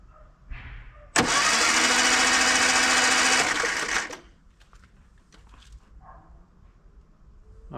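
An old Austin Allegro engine, dormant for decades, cranks in a loud burst of about three seconds, then cuts off, leaving faint knocks and quiet background sounds.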